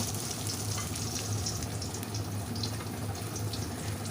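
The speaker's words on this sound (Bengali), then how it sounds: "পেঁয়াজটাকেও একটু হালকা ব্রাউন করে ভেজে নেব" Thinly sliced medium onion frying to light brown, a steady close sizzle with soft crackle and faint stirring, no voices.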